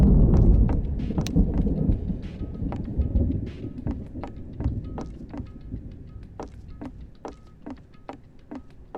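Thunderstorm ambience in the game Garry's Mod: a deep rolling thunder rumble fades over several seconds while dense rain patters steadily, with many sharp droplet ticks continuing to the end; no speech.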